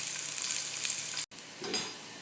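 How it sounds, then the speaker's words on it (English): Eggplant sizzling as it fries in a small amount of oil, a steady close hiss with a brief break and a soft stir-like rustle near the end. "So here we are, we're kind of sizzling away"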